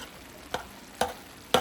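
Chicken and cabbage fry in a pan, a steady close sizzle broken by three sharp bursts about half a second apart as the food is stirred or water hits the hot pan.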